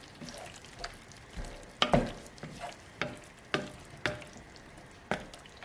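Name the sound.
mixing mushrooms and vegetables in a pan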